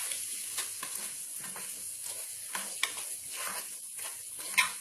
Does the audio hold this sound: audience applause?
no